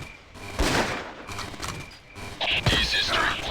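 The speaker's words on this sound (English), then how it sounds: "Start shooting." Gunfire and mechanical clatter in the Ghost Recon video game, a dense burst of shots over a couple of seconds. It is heard under and between voices.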